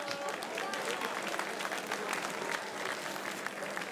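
Steady applause from a live comedy show crowd, fairly soft and distant, continuous clapping filling the whole stretch with scattered crowd noise.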